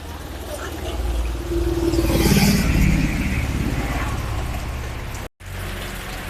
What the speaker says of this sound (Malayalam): ഞാൻ ചെടി നട്ടുകൊണ്ടിരിക്കുമ്പോ മഴ നിൽക്കാത്ത തോരാത്ത മഴ